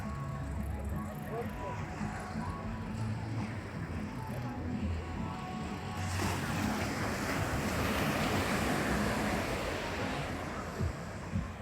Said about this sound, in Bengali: এই তো দেখুন কত সুন্দর ঢেউ মারতেছে